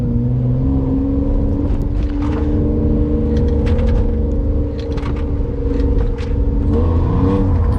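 A BMW E36 engine revs hard while the car drifts on a track at an amateur drift event. Its loud, close, droning note climbs and dips as the throttle works, with tire and mechanical clatter underneath and no talking.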